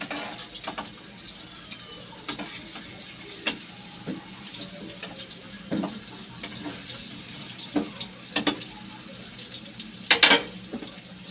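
Lakatan banana cue frying in a pan while being stirred, a soft continuous sizzle broken by scattered clinks and scraping taps of the utensil, with a sharper knock near the end.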